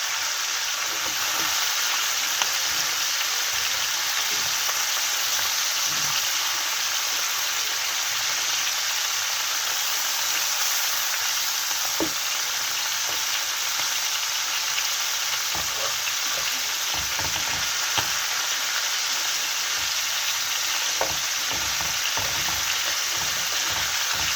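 Chicken pieces brown in a hot pan for a tajine with olives and preserved lemon, giving off a loud, continuous sizzle with occasional soft stirring knocks.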